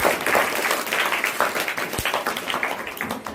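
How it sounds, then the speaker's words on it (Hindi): Studio audience at a classroom quiz game modelled on Kaun Banega Crorepati bursts into steady applause for a contestant named Ayesha, a dense, even patter of many hands close by, lasting a few seconds. "आयशा के लिए जोरदार तालियां।"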